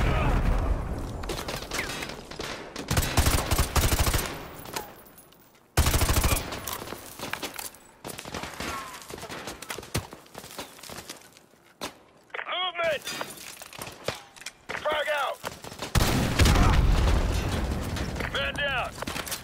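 Grenade blast and gunfire in Call of Duty Modern Warfare 2, bursts of loud shots and impacts in clusters with brief quiet gaps, mixed with mechanical clatter and occasional shouted voices.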